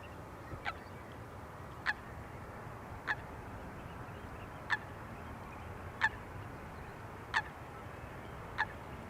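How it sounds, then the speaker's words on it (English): Short sharp bird calls repeat at a regular pace, about one every second or so, over a faint steady background hiss, near runway 18R at Amsterdam Schiphol Airport. "I can hear the birds here in the foreground also making noise"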